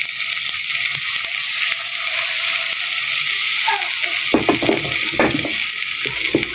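Corn and bitter melon leaves sautéing in a pan, a steady bright sizzle throughout with scraping, clinking stirs of a utensil growing louder toward the end.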